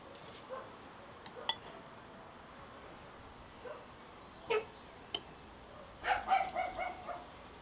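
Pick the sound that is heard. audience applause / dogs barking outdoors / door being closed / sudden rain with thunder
dogs barking outdoors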